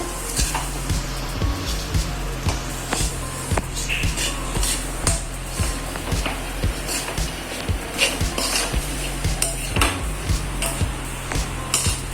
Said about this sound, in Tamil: மீடியம் ஃப்ளேமில் வச்சு கலந்து விடுங்க.